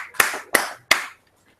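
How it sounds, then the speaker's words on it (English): Three distinct, sharp hand claps ring out close by at an even, slow rhythm in a quiet teacher-training room, each with a short decay, followed by silence. "So just round of applause to her."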